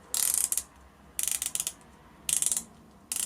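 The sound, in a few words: Doxa dive watch bezel clicking as it is rotated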